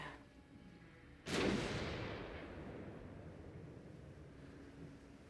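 A single heavy 8-inch naval gun blast in the warship game Ultimate Admiral: Dreadnoughts booms once, sharp and loud, then rolls off in a long fading rumble over a low background hum.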